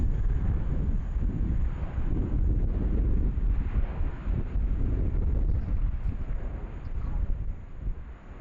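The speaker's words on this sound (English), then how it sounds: "That wind is just starting to really pick up at the moment. I think the microphone's about to go." Strong wind buffets the microphone at a plane-spotting spot beside Sydney Airport, a loud continuous low rumble and roar that surges and eases throughout.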